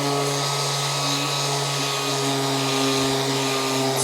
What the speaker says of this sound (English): Smoothing down some edges